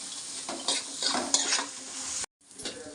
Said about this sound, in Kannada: ನಂತರ 1 ಸ್ಪೂನ್ ಜೀರಿಗೆ ಹಾಕ್ಕೊಳ್ಳೋಣ. ಇದಿಷ್ಟನ್ನು ಫ್ರೈ ಮಾಡಿಕೊಂಡು